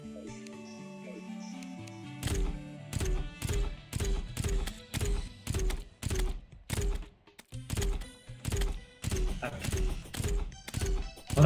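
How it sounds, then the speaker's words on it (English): Potato cannon firing in the Terraria video game, a fast run of sharp, punchy booms in a steady rapid rhythm, loud and close over a quieter game soundtrack. "that's what a potato cannon sounds like"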